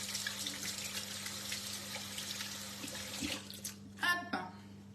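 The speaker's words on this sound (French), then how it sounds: "Je me rince les mains." Tap water runs steadily as hands are rinsed under a kitchen faucet, a continuous hiss that cuts off near the end, followed by a few brief splashes and clatters.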